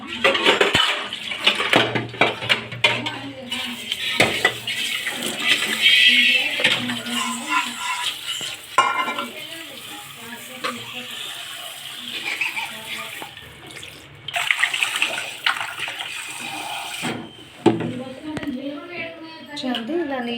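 Fish pieces for a fish curry are washed in water, with splashing and pouring sounds coming and going alongside clattering dishes while a person talks over much of it.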